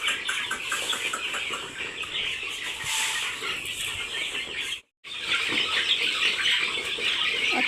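Village chickens and chicks cheep and cluck in a continuous high chatter outdoors on a farm. The sound stays close and busy, with a brief pause in the middle before the calling resumes.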